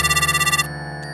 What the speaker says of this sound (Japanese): プルルルル、電話が鳴り出した。